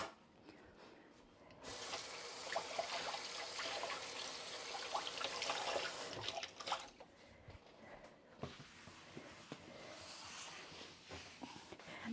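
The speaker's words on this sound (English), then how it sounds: "I've got a cloth which we're going to just rinse." Cloth being rinsed under a running kitchen tap, a faint hiss of flowing water that starts, runs for several seconds, pauses, then resumes with drips and squishing sounds.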